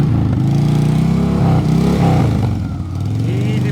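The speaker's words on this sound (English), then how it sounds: "Easy with those revs, Andy." A motorcycle engine idles and revs unevenly, rising and falling during slow-speed riding practice. The engine is loud and close, and a voice speaks faintly over it.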